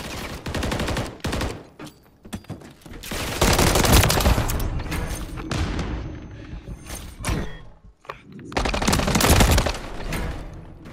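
Dense, loud bursts of automatic gunfire in Call of Duty MW3 ranked multiplayer, rapid overlapping shots coming in waves with brief gaps, close and punchy throughout.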